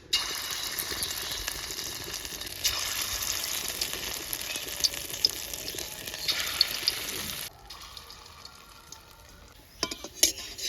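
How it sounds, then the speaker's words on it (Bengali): Small fritters of ground prawn paste fry in hot oil over low heat with a steady, close sizzle and light crackling. A brief stir or shift in the pan partway through quiets the sizzle. "এরকমভাবে ছোটো ছোটো করে হালকা তাপে বড়াগুলা ভাজিয়ে নিলাম।"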